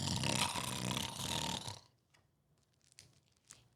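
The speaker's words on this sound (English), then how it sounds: "the bear snores on" A cartoon bear snores in a cave in a loud, rumbling, drawn-out snore lasting nearly two seconds, followed by quiet with a few faint soft rustles.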